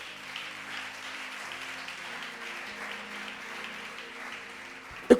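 A church congregation applauding, a steady wash of clapping held at moderate distance throughout, ending with one sharp knock.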